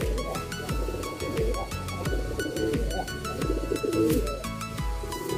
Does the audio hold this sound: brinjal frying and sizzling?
no